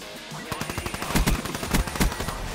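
Fast automatic gunfire from an attachment-equipped weapon in Call of Duty Black Ops 3, a close, loud rattling burst of evenly spaced shots that grows heavier partway through, with no talking.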